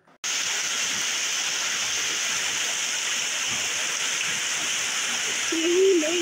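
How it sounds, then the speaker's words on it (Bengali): Heavy rain drums on a tin roof in a dense, unbroken roar that stays loud and even throughout, with a faint voice near the end. "টিনের চালায় বৃষ্টির বড়ই অদ্ভুত শব্দ, তাই না?"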